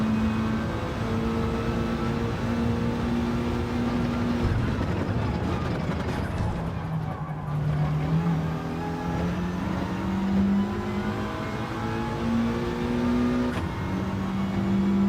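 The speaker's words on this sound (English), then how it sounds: "I'm assuming we rev this thing right out." Car engine in Gran Turismo 7 during a race, a steady revving drone rising through the gears with a brief dip midway as it shifts, loud and sustained throughout.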